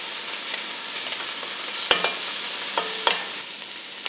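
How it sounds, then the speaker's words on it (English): Onions browning with garlic in a pan for meatball sauce give a steady close sizzle, with two sharper clicks of a utensil stirring against the pan. "you see your onions are browning up nicely, you can go ahead and add your garlic"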